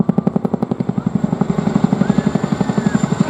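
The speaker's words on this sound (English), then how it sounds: "So Jim's now bringing the aircraft nose up to 55 degrees before using the cycling to push forward 55 degrees nose down" A display helicopter performing nose-up and nose-down manoeuvres at the Bournemouth Airshow, its rotor blades beating in a loud, fast, steady thump close by and without letup.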